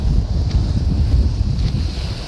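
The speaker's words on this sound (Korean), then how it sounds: "어, 오늘 또 파도가 그 상당히 높네요." Strong wind buffeting the microphone over high sea waves on a rocky shore at Hupo, Uljin, steady loud low rumble with surf wash throughout and no voices.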